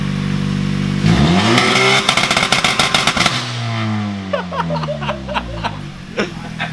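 A car fitted with new downpipes revs hard, the engine climbing and falling in quick blips before settling, loud and close, with short bursts of laughter and voices mixed in.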